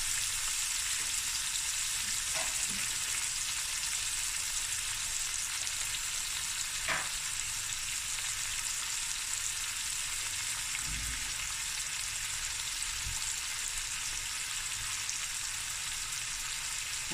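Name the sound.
curry leaves and pepper frying in a pan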